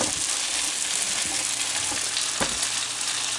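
A pan of caramelizing onions for a caramelized onion dip sizzles steadily while a utensil scrapes around the sides, with a few sharper scraping strokes standing out over the constant fry, close and alone without talk.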